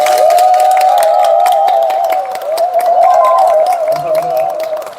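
Audience applause welcoming a TV news anchor at a book concert in a Pohang venue, loud crowd clapping underneath a strong sustained wavering tone that runs throughout.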